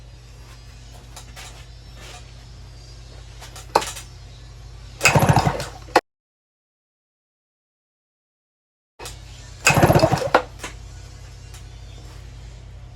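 An outboard motor's starter cord is yanked twice, each pull a short burst of rapid clattering whir standing out over faint ticking background noise, separated by a few seconds of silence.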